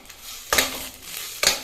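Green banana peel paste is stirred in a pan. Two distinct scraping clanks of the spatula come about a second apart over a quiet kitchen background.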